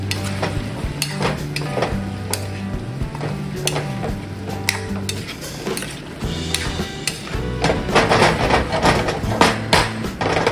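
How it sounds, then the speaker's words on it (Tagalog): Onion cooking in a pan for pork ribs, with a steady sizzle and frequent sharp scrapes and clinks of stirring, close and fairly loud, with a low rhythmic hum underneath. "At saka itong onion. Lutuin na natin to mga lods."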